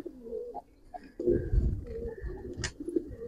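Giribaz pigeons, black-necked silver birds, coo in soft, close, repeated calls in a quiet setting, with a short brighter sound near the end.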